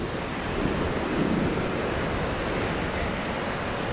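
Steady broadband rush of surf breaking along a beach in Goa, India, a continuous wash of waves with a slight swell near the middle, no voices.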